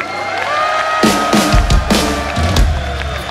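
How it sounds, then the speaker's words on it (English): A rock concert crowd in Brno cheers and applauds the band, a steady, dense wash of clapping and whoops with loud bursts and ringing tones from the stage cutting through. "ladies and gentlemen, big round of applause"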